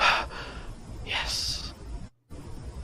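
A person breathing with difficulty: a few short, strained, gasping inhalations and exhalations, fairly close and moderately loud, with a brief silent gap near the end.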